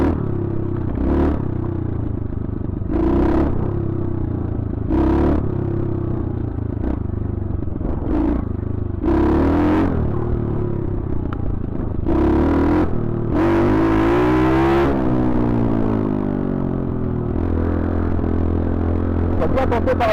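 A dirt bike engine roars inside a tunnel, holding a loud, steady drone broken by repeated revving surges and one long rising-and-falling rev, with no talking over it.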